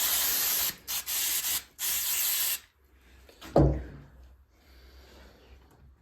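An aerosol can sprays cleaner onto carburettor parts from a Honda 400 Four in several loud bursts of hiss, followed by a quieter thump and low handling noise.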